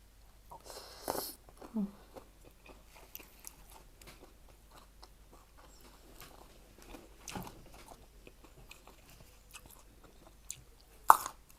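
Crunchy fresh garden vegetables eaten alongside som tam, with a few close, brief crunching bites scattered through a quiet stretch and one sharper crunch near the end.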